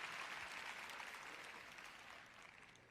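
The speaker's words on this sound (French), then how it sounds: "Vous voyez quand vous applaudissez ces applaudissements mous." Soft, faint applause from a sermon audience in a large hall, a thin steady patter of clapping that slowly tapers over a few seconds with no voices over it.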